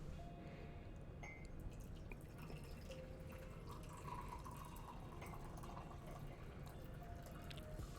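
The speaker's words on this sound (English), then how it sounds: "Gotta pour my tea first" Tea poured into a cup, a soft steady trickle with faint drips under a quiet, hissy background, continuous and low in level throughout.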